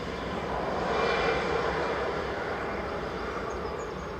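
A CityJet airliner landing at Manchester Airport, inbound from Copenhagen, gives a steady, broad engine roar that holds at an even loudness throughout with no talk over it.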